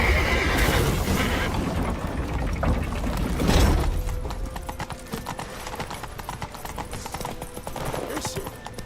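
Hooves clatter rapidly in a galloping rhythm while a horse whinnies, mixed with mechanical clanking in a busy soundscape from The Witcher 3.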